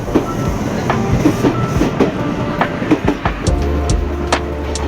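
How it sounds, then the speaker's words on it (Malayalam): A train departs a station in Japan and rushes past close by at high speed, loud rolling rumble with rapid rhythmic clickety-clack of wheels over rail joints, no voices. "ട്രെയിൻ എന്നെ അവിടെ ഇറക്കി മുമ്പോട്ട് വീണ്ടും യാത്ര തുടരുകയാണ്. അതിവേഗത്തിൽ ട്രെയിൻ അവിടെ നിന്നും പോവുകയാണ്."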